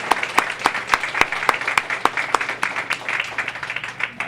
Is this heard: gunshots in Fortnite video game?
no